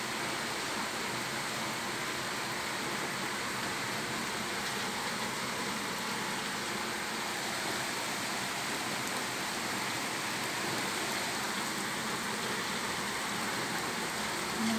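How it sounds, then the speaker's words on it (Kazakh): Steady, even hiss of a rain shower falling in sunshine in Almaty, unbroken and moderately loud throughout, with no voices. "Алматыда ақжауын."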